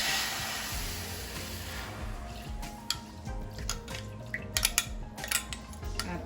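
Diluted cock soup mix poured into a preheated pot of water for Jamaican steam fish, a steady watery pour and sizzle with scattered clinks and drips of utensils against the pot, close and fairly quiet.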